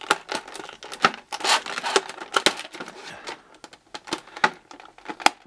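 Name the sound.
cutting through action figure blister packaging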